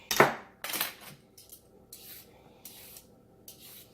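A vegetable peeler scraping produce for green juice, two sharp rasping strokes up front followed by lighter, scattered scrapes, close and fairly quiet with no talking.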